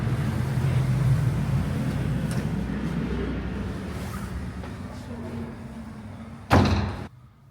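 A heavy door in an old tower at the National Museum in Niš opens with a single loud thud near the end. It follows a steady murmur of indoor room noise.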